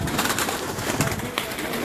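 Golden Sheikhupuri pigeons cooing in a loft, a steady dense murmur of many birds with soft repeated coos close by and no talk.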